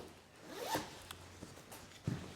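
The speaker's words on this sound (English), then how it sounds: "This zips in a liner to make it warmer for the winter" A zipper runs on a Barbour Ashby waxed cotton jacket as a warm winter liner is zipped in, a quick rising rasp followed by a few faint clicks and rustles, close and quiet.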